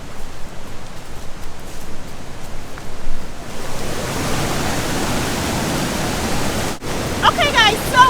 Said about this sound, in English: we've arrived at Ero Omola Waterfall in Kwara State